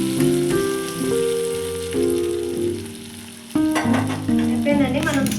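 Chicken frying with gongura leaves in a pan on the stove, a continuous close sizzle with bursts of crackle and stirring, mixed with a tonal background.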